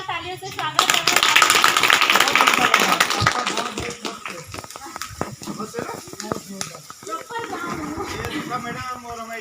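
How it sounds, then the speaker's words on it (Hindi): Enthusiastic clapping from a rural gathering welcoming a regional education officer and guests, loud and close at first, then thinning into scattered claps as voices and talk take over near the end. "उनका जोरदार तालियों से स्वागत करें"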